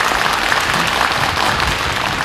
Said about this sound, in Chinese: 我们掌声欢迎两位好吗？